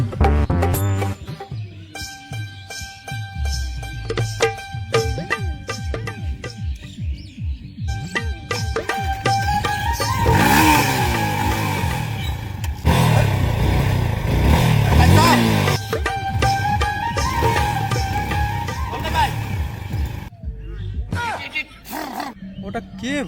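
A motorcycle engine idles and revs nearby, a throbbing, rising and falling roar with voices talking over it and faint bird chirps in the background.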